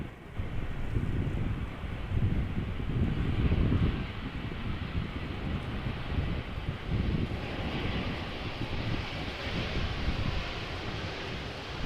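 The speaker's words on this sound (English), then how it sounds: "Embraer 190 arriving from Newcastle, flying as KLM flight 954." A KLM Embraer 190 jet lands at Amsterdam Schiphol in crosswind conditions, a steady broadband engine roar mixed with gusty wind noise, fairly close and continuous throughout.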